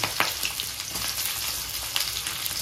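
Onions dropped into hot rendered pork fat give a steady close sizzle and crackle, with a few sharper pops over the continuous frying hiss and no talk.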